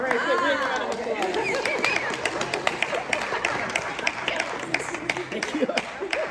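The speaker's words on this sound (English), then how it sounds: "Big round of applause" Audience applause at a summer recital, a steady patter of many hands clapping with cheering and chatter from the crowd, loud and continuous for several seconds with voices mixed in.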